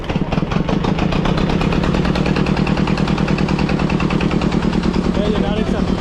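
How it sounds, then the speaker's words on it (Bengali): A boat engine runs steadily and loudly with a dense, even rumble throughout, while people talk over it. "এই যে ইঞ্জিন চালু হবে।"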